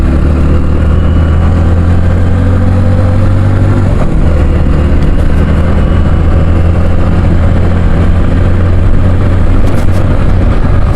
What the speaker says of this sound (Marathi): खरंच आज लय माझी येते गाडी पळवायला